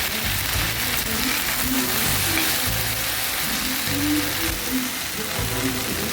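Okra sizzles in hot oil in a pan, a dense crackling fry close to the microphone, with repeated rhythmic scraping or stirring strokes throughout and no talk.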